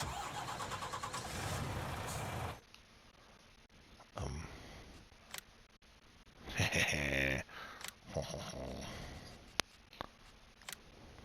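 A truck engine in Farming Simulator 19 cranks over and catches, then settles into a rough idle among clicks and thumps of in-game activity, with talking in parts of the stretch.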